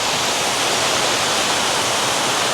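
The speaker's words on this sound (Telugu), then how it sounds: "హంగమ్మ దేవి వాటర్ ఫాల్స్ అంట." Small Hangamma Devi waterfall near Chikmagalur, a steady, loud rush of falling water filling the whole moment, close by and unbroken, with no voices.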